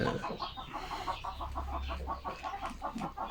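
Chickens cluck repeatedly in a quick, busy rhythm, several birds close by with a low hum underneath.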